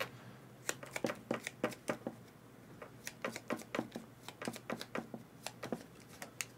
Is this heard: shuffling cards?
yes